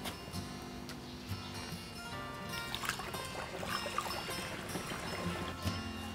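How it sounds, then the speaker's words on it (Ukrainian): Water pours into a garden sprayer tank through a funnel to top up a pesticide mixture, making a continuous trickling, gurgling flow, faint and steady with a few small knocks. "Наповнюємо оприскувач до кінця водою."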